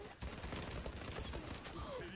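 Sustained automatic gunfire in the video game Zula, a steady rattling stream of shots at low level, with faint talk underneath.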